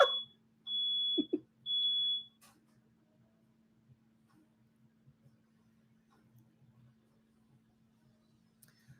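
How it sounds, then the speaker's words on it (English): A smoke alarm gives a few sharp, high chirps at close range, including a couple of longer sustained beeps, then stops and leaves a quiet room with a faint steady hum. "Dustin's trying to fix the smoke alarm."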